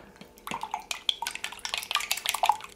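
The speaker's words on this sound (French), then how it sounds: "On brasse pour dissoudre ça" A spoon stirs kansui powder and salt in water to dissolve them, making quick light clinks and scrapes against the container in a brisk, uneven rhythm, close and moderately quiet.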